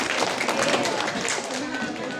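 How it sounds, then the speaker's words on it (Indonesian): A crowd of parents applauds during a village head's speech in Sungai Merah, a dense patter of clapping for about two seconds that eases slightly toward the end, with voices mixed in. "Tepuk tangan dulu Bu."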